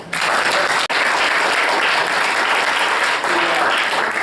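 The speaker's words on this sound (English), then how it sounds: "Can we have another round of applause for" Sustained audience applause fills the room at a community discussion on a city's transition from coal to solar, a dense, steady wash of many hands clapping at close range with no break.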